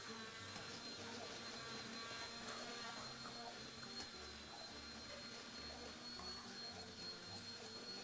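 A blender whirring steadily as it mixes butter, with a constant high-pitched motor whine and a low, uneven churning underneath, close and moderately loud throughout.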